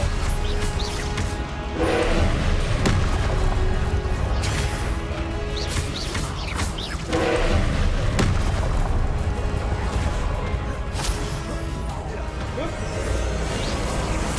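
Repeated Confringo blasting-spell explosions in the Hogwarts Legacy video game, several loud booming bursts spaced a few seconds apart over continuous game noise and music, with a player talking throughout.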